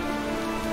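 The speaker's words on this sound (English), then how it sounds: "That's odd. We weren't expecting rain." Rain patters steadily in World of Warcraft, a soft, even hiss of falling drops that stays faint and constant for a brief moment with no voices.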